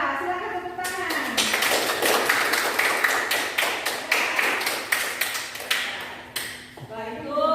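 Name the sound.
class applauding the best group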